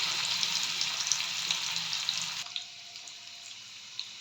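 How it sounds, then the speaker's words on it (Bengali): Fish-oil fritters from katla fish frying in hot oil over a low flame, a steady bright sizzle with small pops that drops to a quieter, thinner crackle partway through. No one speaks. "তো আমি পরপর সবগুলো ছেড়ে দিয়েছি গরম তেলে।"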